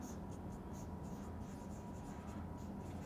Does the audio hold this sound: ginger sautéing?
no